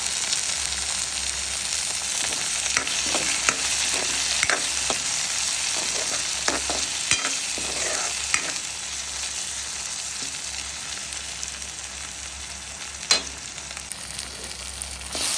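Tomatoes and onions sautéing in a pan as the base for a prawn curry, a steady soft sizzle with scattered clicks and occasional stirring scrapes, close and without talk.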